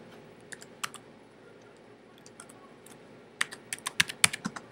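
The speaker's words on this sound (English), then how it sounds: "I'm just going to type in my YouTube channel." Someone types on a computer keyboard close by, giving quiet scattered keystrokes that break into a quicker, louder burst of several taps near the end.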